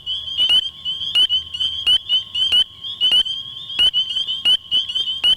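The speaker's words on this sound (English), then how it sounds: "Choruses of peeps can be heard throughout our state declaring that spring is here" Spring peepers in Connecticut call in a dense chorus, with many high, piercing peeps repeating rapidly and overlapping near the microphone, plus a steady shrill trill behind them.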